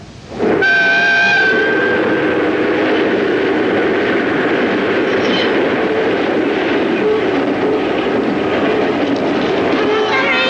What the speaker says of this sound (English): It's just a train.